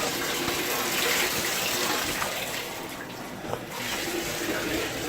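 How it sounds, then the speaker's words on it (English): Running shower water makes a steady, close broadband hiss that lasts throughout with slight changes in the flow. "Little bird taking a shower."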